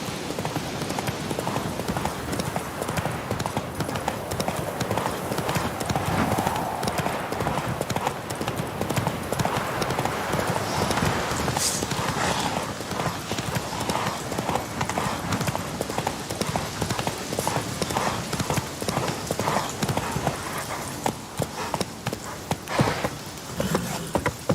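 Horse hooves clip-clop steadily and fairly close in a video game, a continuous walking rhythm running for the whole stretch over a dense background of game ambience and music.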